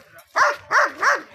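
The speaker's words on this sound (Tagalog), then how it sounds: "Ang ingay ng aso" A dog barks three times in quick succession at an outdoor farm lunch during a chili harvest, each bark loud and close with a short gap between.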